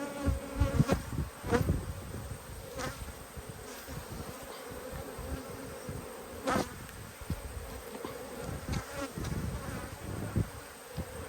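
Honey bees buzz around open blue and white backyard hives during an inspection, a continuous close hum with individual bees droning past the ear and occasional handling knocks.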